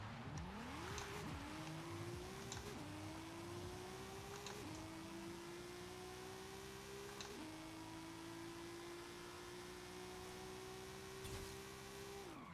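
A wagon's engine in the Forza Horizon 5 racing game drives hard through the gears, a steady rising drone that climbs in pitch, drops briefly at each shift, then climbs again, loud and continuous for the whole stretch.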